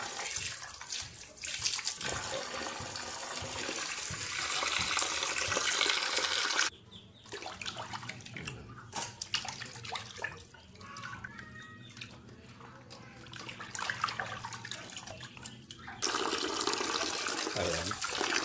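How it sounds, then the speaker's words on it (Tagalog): Raw catfish being rinsed under running tap water in a kitchen sink, a steady broadband rush of water that cuts out briefly mid-way and resumes, loud and close, with no talking. "Hugasan po natin sa pangatlong pagkakataon mga boss idol para siguradong malinis itong ating hito."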